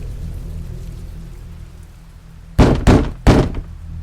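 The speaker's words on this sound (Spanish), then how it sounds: "3 fuertes golpes en la puerta de mi dormitorio me hicieron dar un salto de la cama" Three loud, sharp knocks on a bedroom door, close and distinct, arriving in a quick uneven sequence after a stretch of low steady background rumble.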